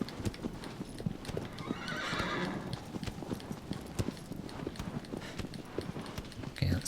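Horse hooves clip-clopping at a slow walk through a forest in Shadow of the Colossus on PS4 Pro, steady close footfalls with a brief whinny near the end.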